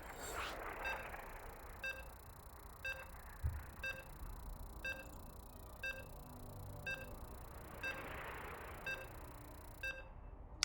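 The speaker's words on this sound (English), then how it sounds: "So you can hear the beeps" StarCraft 2 pre-game countdown beeps in a PvT tournament match, a steady series of short, evenly spaced electronic tones about one per second, quiet over faint background hum.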